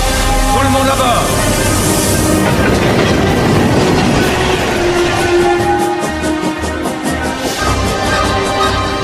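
The Blue Train pulls out of Gare de Lyon bound for Monte-Carlo, a steady rolling rumble and clatter of rail cars with voices talking over it throughout.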